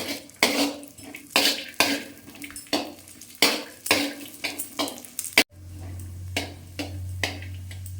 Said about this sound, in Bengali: অল্পটুকু ঘি দিয়ে আমি কাজু কিশমিশগুলো ভেজে নেব।